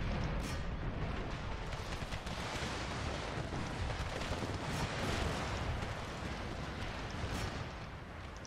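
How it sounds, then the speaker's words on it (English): Canister shot artillery fires in an Empire Total War battle under a continuous, dense roar of distant cannon and musket fire and rumbling blasts, loud and unbroken throughout with no clear gaps. "Canister shot then."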